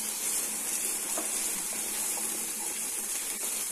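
Capsicum sizzles in a hot pan while cooking pasta masala curry, a steady close frying hiss with faint crackles throughout.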